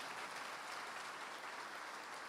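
Steady round of applause from a church congregation honouring its volunteers, a dense, even wash of many hands clapping at moderate distance with no talk over it.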